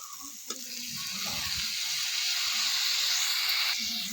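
Garlic and onion paste hits hot oil in a pan with fish, and after a sharp tap comes a close, steady, hissing sizzle with faint stirring, with no talk.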